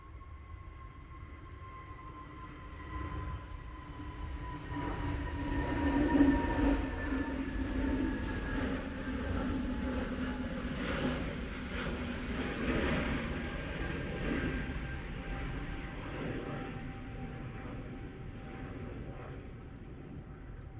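A passenger airliner nicknamed Mighty Orange departs from Manchester Airport, its engines a distant, rising low roar with a thin whine that swells toward the middle and then holds steady, with no one talking.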